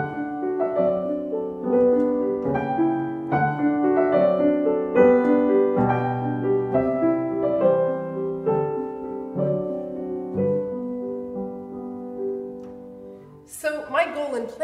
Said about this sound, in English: It's the first of the Kinderszenen, the Scenes of Childhood by Robert Schumann.